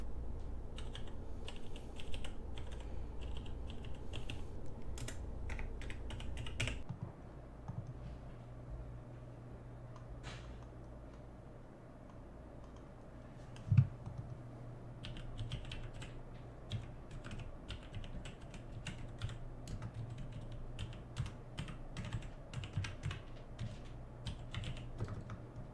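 Steady typing on a Logitech G613 wireless mechanical keyboard, with a continuous run of fairly soft, quick key clicks close by and one sharper tap near the middle; no talking.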